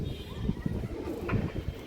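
Gorra pigeons coo close by in a series of low, rounded pulses that repeat irregularly, fairly loud against a light background murmur.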